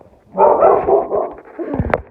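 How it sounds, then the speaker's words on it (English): A dog barks in a few quick, fairly loud bursts at close range, with a sharp yip near the end, in a home during the Christmas season. "This is my dog."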